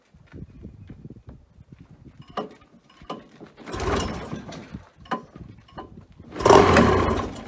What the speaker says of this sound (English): I've got this pull starter working properly now